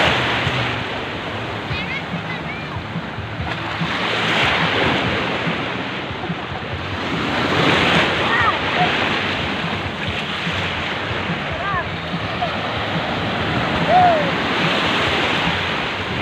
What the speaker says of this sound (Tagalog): Lalaki ng alon dito, guys.